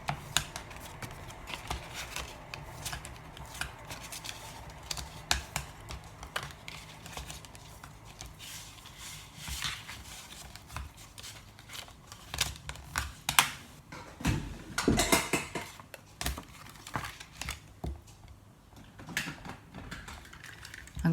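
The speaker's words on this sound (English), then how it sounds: "So now I'm going to fold and burnish" Paper box scored lines being folded and burnished: dense, close clicking, crinkling and scraping textures with irregular bursts, continuing steadily with no voices.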